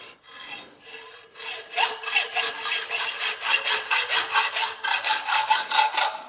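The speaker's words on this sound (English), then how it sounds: "We're gonna cut fairly close to that bend, not exactly at the bend, but close enough." Hand saw cutting near the bend of a bent metal piece clamped in a vise, steady rhythmic back-and-forth strokes, close and fairly loud, with no talk.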